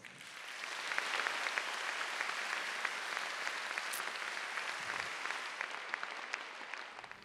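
Sustained applause from a concert audience at a 70th-anniversary tribute concert, a dense steady wash of clapping that swells in and holds for several seconds with no voices.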